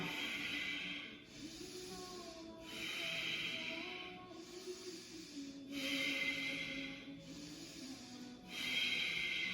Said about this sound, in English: 25 powerful breaths like a circle, no pause in between the inhale and exhale